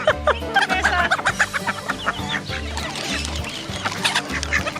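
Chickens cluck busily and almost continuously, close by, amid a noisy flock scene with ducks and a goose nearby, dense overlapping bird calls with a rhythmic low thumping underneath.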